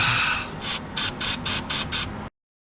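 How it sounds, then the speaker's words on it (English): An aerosol can of electronics cleaner hisses onto a 1992–1995 Ford Mustang solenoid in six short, evenly spaced spray bursts after an initial longer hiss, close by, then stops abruptly. "Spray some electronics cleaner on the solenoid."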